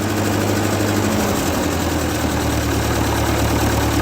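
A 1941 Ford 9N tractor engine idles steadily up close, a loud, even low rumble with a faint knocking throb and no talk.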